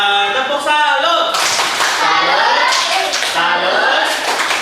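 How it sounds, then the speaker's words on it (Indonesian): Applause in an Indonesian classroom, with students clapping together for classmates who came to the front, followed by a loud dense burst of rhythmic clapping and cheering voices. Children's voices sound over the clapping at the start. "Ya, baik kita kasih tepuk tangan teman-teman yang sudah masuk ke depan."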